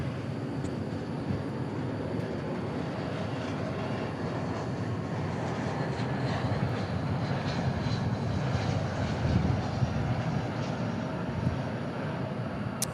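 An Airbus A321 jet airliner at DFW airport gives a continuous, fairly faint, distant engine rumble and hum that holds steady throughout, with no voices over it.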